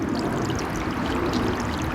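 A solar-powered bird bath fountain sprays a steady, continuous stream of water that splashes and trickles into the basin, close and constant with no talk.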